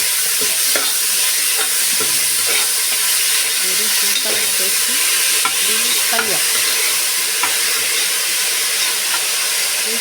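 Chopped onions frying in a pan for a bean palya, a loud, steady sizzle and hiss up close, with occasional stirring scrapes and clinks throughout.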